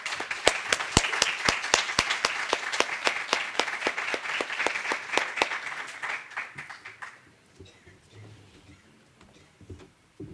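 Audience applause at an evening academic event, dense and lively clapping that fades away after about six seconds into quiet room noise.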